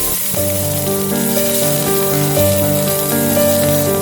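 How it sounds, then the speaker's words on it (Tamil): About twenty small onions fry in sesame oil in a kadai for chicken dum biryani, giving a loud, dense, steady sizzle that runs throughout under a melodic music track. "இப்போ அதே கடாயில் கொஞ்சமாக நல்லெண்ணெய் சேர்த்துட்டு 20 சின்ன வெங்காயம் இப்போ இதில் ஆட் பண்ணிக்கிறேன்."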